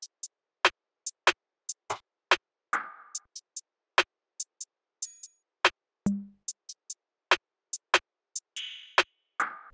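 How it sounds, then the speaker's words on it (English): Sharp programmed hi-hats in an FL Studio beat run in quick, even rhythm, joined by extra percussion hits, short swishes and a brief low thump, all dry and alone. "Then I added all this extra percussion that sounds like this with the hi-hats."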